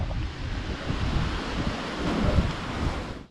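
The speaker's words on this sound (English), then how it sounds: "A little windy this morning." Wind gusting at a Glacier National Park trailhead in the morning, a steady low roar of rushing air and microphone buffeting, moderately loud and unbroken, with no voices.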